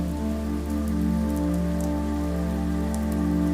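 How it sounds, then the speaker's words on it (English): Light sprinkles of rain tap softly on mountain ground as a thunderstorm builds, faint scattered drops beneath a steady low drone. "light sprinkles of rain occasionally tap on the ground"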